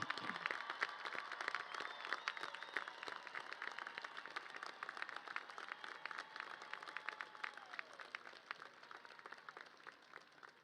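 Sustained applause from a commencement crowd honoring graduates with academic and special honors at a 2025 CSUN ceremony, a steady dense wash of many hands clapping throughout, with faint tonal sounds mixed in.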